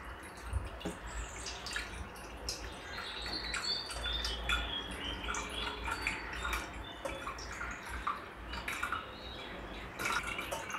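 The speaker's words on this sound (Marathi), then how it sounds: "आता याच्यामध्ये थोडेसे कण राहतात, त्यामुळे आपण हे अजून एकदा गाळून घेणार आहोत।" Wheat milk for wheat satva being strained a second time, with liquid trickling and dripping steadily into a vessel through a sieve, soft close splashes and small irregular drips continuing for several seconds without speech.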